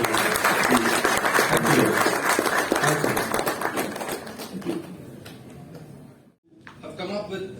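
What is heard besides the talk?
audience applause at a conference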